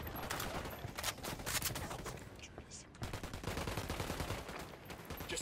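Automatic rifle fire rattles in dense bursts in Ghost Recon Wildlands, loud and close, with rapid shots through most of the stretch and a brief lull midway.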